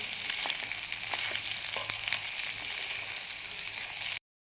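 Pasta is stirred in a small pan on a miniature gas stove, a steady bright frying sizzle with faint scraping stir clicks, close and continuous before cutting off abruptly.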